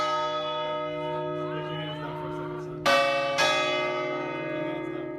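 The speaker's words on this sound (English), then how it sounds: "bells on the top of the Leaning Tower of Pisa" Bells atop the Leaning Tower of Pisa ring out. A sustained, humming resonance is followed by two bright, loud strikes about half a second apart, and their rich overtones linger and fade.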